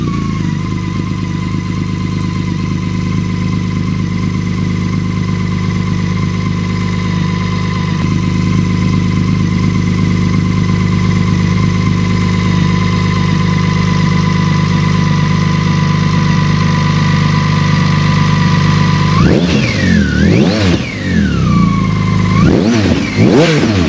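A BMW K1600GT motorcycle fitted with a GPR aftermarket exhaust idles with a steady, loud engine drone, then revs sharply two or three times near the end.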